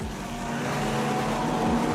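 Super sedan race cars at Carina Speedway, engines roaring loud and close as they accelerate out of a turn, one continuous revving drone with pitch sweeps as cars pass.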